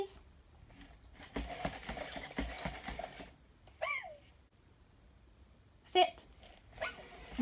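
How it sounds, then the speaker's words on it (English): A small electronic dog bark from a Sony Aibo ERS-1000 robot dog sounds a few times in short bursts, separated by pauses, with a person talking nearby in between. "so now she's on the dog bark setting"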